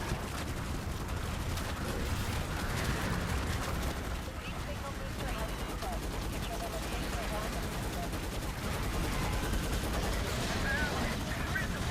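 A mounted machine gun blazes away nonstop in Starship Troopers Extermination, a steady dense roar of automatic fire mixed with explosive rumble and game action, with a voice talking over it.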